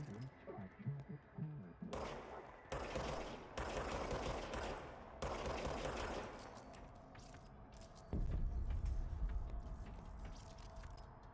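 Video game gunfire played on a MacBook Air M3: sparse shots at first, then loud sustained bursts of rapid automatic fire separated by short gaps, followed by a lower, heavier rumble near the end.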